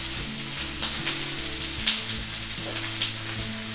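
Brinjal pieces fry in hot oil for a curry, giving a steady close sizzle with scattered small pops and crackles throughout. No voices are heard.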